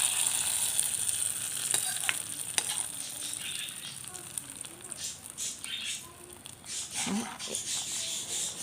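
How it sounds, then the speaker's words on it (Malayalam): Hot oil tempering with curry leaves is poured into carrot pachadi and crackles briefly, followed by a faint steady sizzle and light rattling close by at a low level. "ഒരു തണ്ട് കറിവേപ്പിലയും കൂടെ ഇനി ഇത് കറിയിലേക്ക് ഒഴിച്ചു കൊടുക്കുക"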